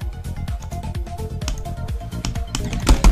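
A faulty computer mouse that fails to register clicks is clicked over and over in quick bursts, the sharp, close clicks mixed with some vocal sound.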